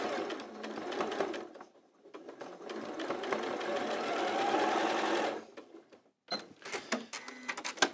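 A sewing machine stitches a quilt block seam in steady, whirring runs, pausing briefly before starting again in short bursts, close and alone with no talking.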